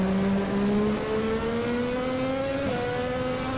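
Formula Classic race car engine in the Automobilista sim, revving loudly and steadily, rising in pitch across the run with a brief dip from a gear change near the end, with no voices.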